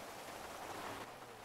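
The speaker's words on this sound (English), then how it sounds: "It's raining!" Faint, steady rain hisses evenly in a GTA roleplay game world, a soft continuous wash with no voices over it.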